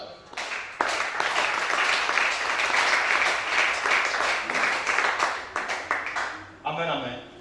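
A church congregation applauding and cheering together, a dense sustained wash of clapping that fills the space and fades toward the end, with voices mixed in.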